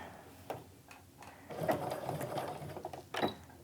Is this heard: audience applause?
no